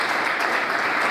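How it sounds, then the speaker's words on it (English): A brief burst of dense audience applause at a Lagos leadership event, loud and continuous, as the crowd welcomes the representative of the Lagos State Safety Commission. "Keep clapping, keep celebrating."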